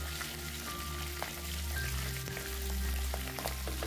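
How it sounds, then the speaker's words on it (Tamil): Chopped onions and tomatoes frying in oil with green chillies and curry leaves for chicken kuzhambu, a soft continuous crackling sizzle close by, fairly quiet, with faint clinks and no talking. "ஃபஸ்ட்டு நம்ம வெங்காயம் நல்லா வதக்கி விட்டுலாம்"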